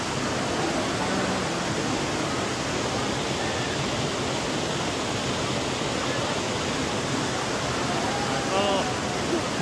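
Hillside waterfall in the mountains near Dharamshala and Dalhousie, a steady, dense roar of rushing water that fills the whole stretch without letup, faint voices buried underneath.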